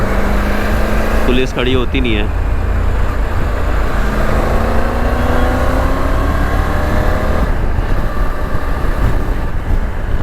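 Traffic on an outer Delhi road with engines passing close and loud, a rising motor tone suggesting a bike riding by, while someone talks over the continuous road noise.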